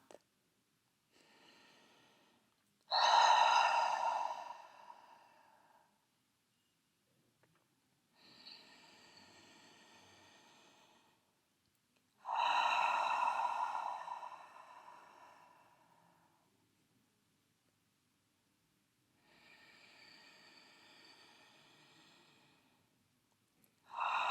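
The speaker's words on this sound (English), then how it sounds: "Inhaling through the nose and slowly exhaling through the mouth." Slow, deliberate breaths drawn in through the nose and released gradually through the mouth during a breathwork meditation, several soft cycles with quiet pauses between, the exhales swelling louder and airier.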